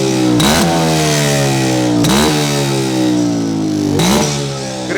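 A 250cc two-stroke sidecar motorcycle engine revs hard three times in a row, each rise in pitch falling back to a rough, clattering idle, loud and close.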